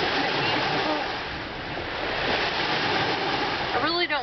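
Water washes steadily at Bonneau Beach in South Carolina, a loud, continuous rushing wash of waves that swells and eases slightly, with a brief voice-like sound near the end.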